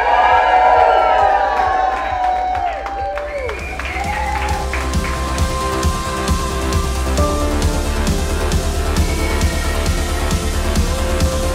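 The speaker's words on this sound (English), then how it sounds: "let me hear the biggest cheer of the day" Wedding guests at Clevedon Hall cheering, whooping and applauding for the bride and groom, a loud, sustained crowd roar with shouts and clapping throughout.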